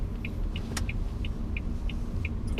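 A 2011 Renault Grand Modus 1.2 TCe 100 idling: a steady, low, smooth engine rumble, heard up close, with a faint regular high tick repeating above it and no talking.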